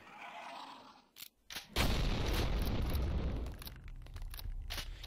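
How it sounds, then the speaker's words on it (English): A rocket-jump explosion in Doom sets off a sudden loud boom with a rumbling blast tail that fades gradually, preceded by a few quieter pops. "Don't tell me you have to rocket jump this."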